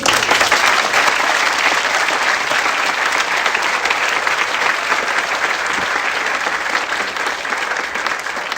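Sustained applause from a graduation convocation audience, dense and steady clapping filling the hall for the full stretch without a break.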